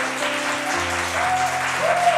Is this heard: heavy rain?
no